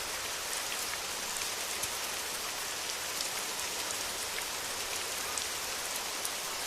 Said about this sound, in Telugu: వర్షం స్టార్ట్ అయ్యేలాగుంది.